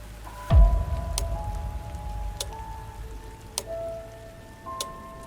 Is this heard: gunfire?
no